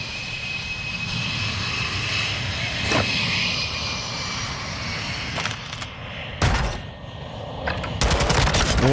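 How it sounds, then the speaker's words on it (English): VTOL aircraft engine droning steadily in a military shooter game, with bursts of gunfire and sharp impacts cutting in near the end, loud and close. "Pulled the VTOL over, so maybe it can shoot at the middle bridge now."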